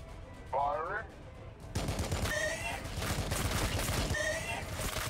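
Dense, sustained gunfire from the Warhammer 40K Battlesector strategy game rattles continuously at a steady level, with a short high warbling tone near the start and another later, plus a brief voice.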